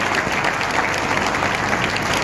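A crowd at a Madhya Pradesh working journalists' union convention in Morena breaks into sustained, even applause to welcome the chief minister, a broad wash of clapping without pause.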